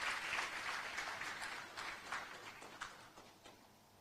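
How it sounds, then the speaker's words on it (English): An audience at an African Continental Free Trade Area conference in Kenya claps to welcome a speaker, a fairly faint, distant round of applause that thins out toward the end. "We can welcome him with a clap."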